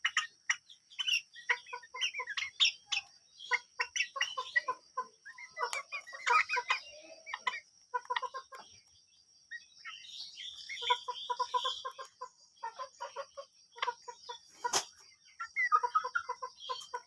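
Farmyard chickens, a spirited hen among them, cluck and chatter in dense close bursts with brief lulls, followed by sharper squawks near the end.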